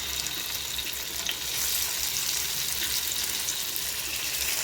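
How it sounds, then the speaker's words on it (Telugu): Marinated Bombay duck fish pieces frying in hot oil, a steady, loud, close sizzle that crackles continuously with no one talking. "మనము ముందుగా మ్యారినేట్ చేసి పెట్టుకున్న ఈ ఫిష్ పీసెస్ అన్నీ ఇలా ఫ్రై చేసుకోవడానికి ఒక్కొక్కటిగా వేసుకోవాలి."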